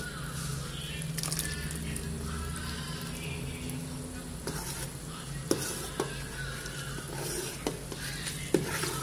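Liquid bubbling and sizzling in a pot as the water boils off, a steady low crackle with a few sharp pops and clicks of stirring, fairly quiet.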